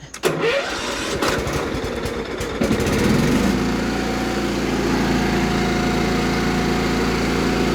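A Cub Cadet 1330 lawn tractor engine is started on choke. It cranks with rapid mechanical chugging for a few seconds, then catches and runs as a steady, close, loud small-engine drone.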